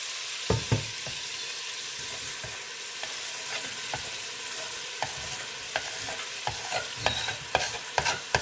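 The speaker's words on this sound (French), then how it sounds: "on met les oignons à revenir avec" Onions browning in a pot alongside a pork roast with prunes, Jerusalem artichoke and sweet potato, a soft continuous sizzle broken by frequent spoon scrapes and clinks that grow busier toward the end, no talking.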